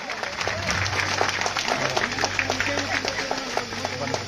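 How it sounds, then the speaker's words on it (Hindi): A crowd at a groundbreaking and foundation-stone ceremony in Nawalgarh claps in a continuous, moderately distant patter, with voices and chatter mixed in over it. "तालियां बजती रहे आपकी।"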